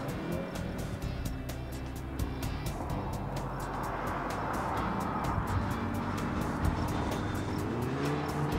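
A Volkswagen GTI with a DSG gearbox brakes hard into corners on a race track, its engine a steady close drone under a fast train of clicking ticks, with pitch sweeping down as it slows.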